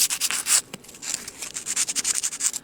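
Soft-grit sandpaper rubs over a small custom mini figure, making quick rhythmic scratchy strokes, close and steady with brief pauses between passes.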